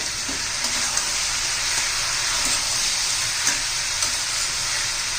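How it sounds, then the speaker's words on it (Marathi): Homemade masala sizzles steadily as it fries in hot oil, a continuous close hiss broken by faint stirring clinks, with no talking. "एखादा मिनिटभर तेलामध्ये चांगलं परतून घेऊया"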